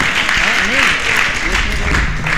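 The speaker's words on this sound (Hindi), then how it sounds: "जोरदार ताली बजाकर हम इनका स्वागत करेंगे" Loud welcoming applause from an antakshari audience, dense clapping filling the room with a voice speaking over it throughout.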